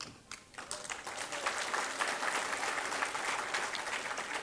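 An audience at a lecture on Janpath, New Delhi breaks into applause, rising within the first second from sparse claps to a dense, sustained round of clapping, heard from a distance and fairly soft.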